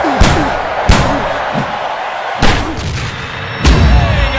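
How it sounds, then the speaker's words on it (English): Heavy punches landing in the boxing video game Fight Night Round 2, Muhammad Ali versus Chris Byrd, with several loud thudding impacts at irregular intervals over a constant arena crowd roar. "A shocking haymaker sends him down"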